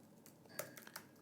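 Several quick, soft keystrokes on a computer keyboard, spaced irregularly over about a second, faint against quiet room tone with no voices.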